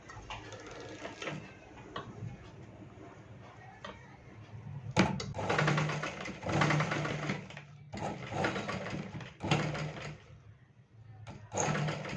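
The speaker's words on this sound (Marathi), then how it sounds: "आता काय करायचं, शिलाई मारून घ्यायचं." A sewing machine runs in several bursts of close, rapid stitching along a blouse neckline, with short pauses and handling clicks between runs.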